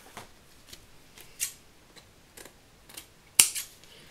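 Scissors snip off excess paper or card in a quiet craft setup, several brief isolated cuts spread over a few seconds, the last one sharpest and loudest, with no talking.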